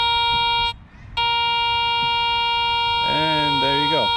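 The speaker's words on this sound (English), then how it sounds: "it gives you a really high pitched noise, indicating that that's exactly where that piece of foil is located" A Garrett Ace 400 metal detector gives a steady, high-pitched pinpoint tone over a piece of foil. The tone cuts out briefly, then resumes, and a person talks over the last second.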